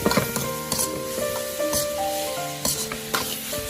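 Carrots seasoned with salt, chicken bouillon powder and light soy sauce are stir-fried in a wok. Loud sizzling runs under quick spatula scrapes and clanks.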